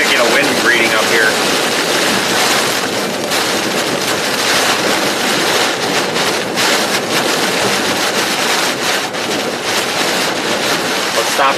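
Loud, steady roar of Hurricane Ian's wind in South Carolina buffeting the microphone, a dense continuous rush with gusty surges and no letup, with indistinct voices partly buried beneath it.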